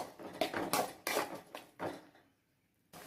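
A spoon stirs white sauce pasta with cheese in a pan, giving a run of soft scraping clinks and knocks against the metal in uneven bursts, then a brief pause before one more scrape.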